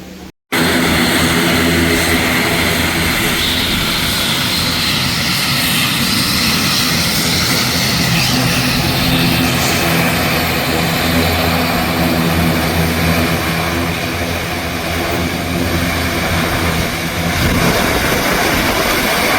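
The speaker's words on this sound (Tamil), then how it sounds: "ஃப்ளைட் வந்து" An airplane from India landing at Palaly airport, its engines giving a loud, steady roar that fills the whole stretch without letup and with no voices.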